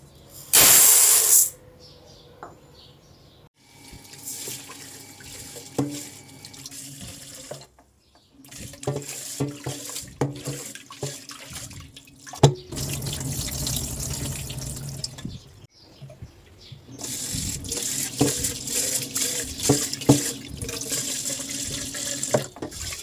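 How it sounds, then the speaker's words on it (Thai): Tap water runs into a pot to rinse sticky rice before cooking it in a rice cooker, loud splashing bursts alternating with swishing, sloshing and brief quiet pauses. "ล้างทำความสะอาดข้าวเรียบร้อยแล้วนะคะ"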